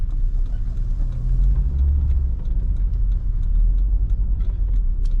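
A VW Caravelle T3 2.6 van rolls along an old road, its engine giving a steady, close, low rumble that holds even throughout, with road and cabin noise layered over it.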